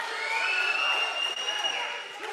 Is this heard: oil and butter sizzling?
no